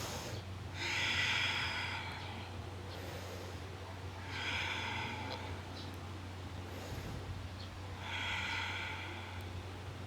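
Slow, deep breaths during a vinyasa yoga flow, three long airy inhale-exhale cycles evenly spaced over a low steady background hum, close and fairly quiet.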